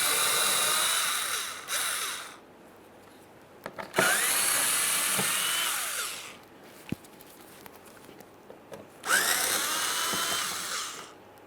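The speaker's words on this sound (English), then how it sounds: "Using our 7mm here, we can remove the mounting bolts." Mounting bolts being removed with a 7mm socket tool while replacing the intercooler on a 2013–2020 Ford Fusion 2.0L four-cylinder, heard as three loud whirring bursts of a few seconds each, separated by quieter gaps with clicks and knocks.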